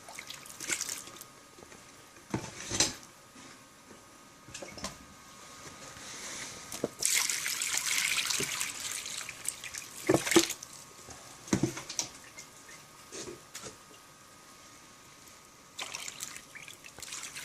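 Water trickles and splashes as it is poured to fill a tub for gold panning paydirt, with a louder gush of pouring midway and softer dribbles and drips before and after.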